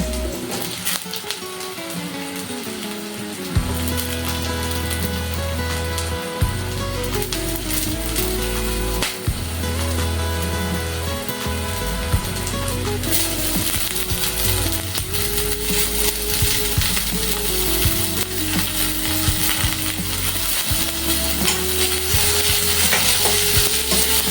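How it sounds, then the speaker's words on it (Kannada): Capsicum and onion frying together in a pan, a steady sizzle broken by repeated scraping and stirring strokes, close and loud, continuing for a long stretch without talk. "ಇದನ್ನು ಸ್ವಲ್ಪ ಚೆನ್ನಾಗಿ ಹಾಗೆ ಫ್ರೈ ಮಾಡೋಣ ಈರುಳ್ಳಿ ಜೊತೆಗೆ ಎರಡು ಒಟ್ಟಿಗೆ ಫ್ರೈ ಆಗ್ತಾ ಇರಲಿ"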